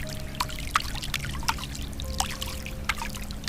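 Dark water pours and pools on a floor in a quiet room, heard as a soft trickling bed punctuated by a handful of distinct drips and splashes at uneven intervals.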